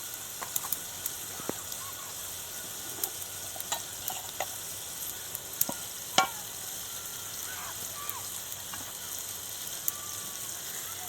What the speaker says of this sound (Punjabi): ਹੁਣ ਚੰਗੀ ਤਰ੍ਹਾਂ ਜੀ ਜਿੰਨਾ ਚਿਰ ਭੁੰਨੀ ਨਹੀਂ ਹੁੰਦੀ ਆਪਾਂ ਹਿਲਾਉਂਦੇ ਰਹਾਂਗੇ।